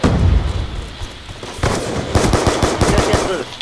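Rapid automatic gunfire in a shooter video game, loud and dense bursts of overlapping shots and cracks filling the short clip, with a busy rattling stretch in the second half.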